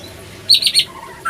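A white-rumped shama (murai batu) gives a short burst of bright, high chirping notes, two or three quick phrases close by and loud against a quiet background.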